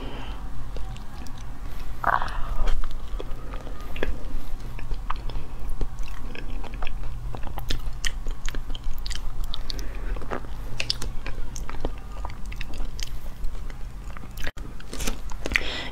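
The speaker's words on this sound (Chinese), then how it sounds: "然后就可以开吃了。" Close, loud chewing and crunching of spicy noodles and sausage, with continuous wet bites, slurps and sharp crunches over a steady low background hum.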